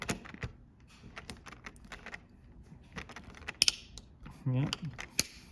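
A plastic cover and circuit board are pried out of a Ring wireless sensor with a tool, giving a series of small clicks, creaks and snaps close up, with one brief low rattle partway through.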